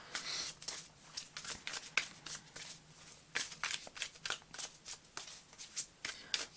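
Tarot cards are shuffled up close in rapid, uneven bursts of papery riffles and soft slaps, quiet and alone.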